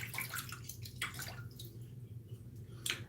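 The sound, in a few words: water running while rinsing during a shave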